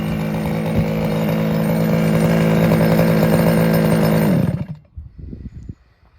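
A small gas engine on a Losi DBXL 2.0 RC truck buzzes loudly and steadily, then cuts off abruptly, leaving a few faint knocks and rattles afterward.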